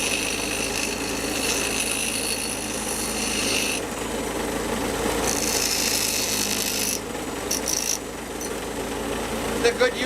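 Power tool grinding the corners off a metal motorcycle bracket for a muffler or camera mount, a steady rasping whir lasting throughout at close range, with loud scraping bursts midway.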